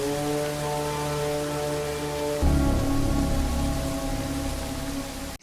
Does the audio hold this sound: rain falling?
yes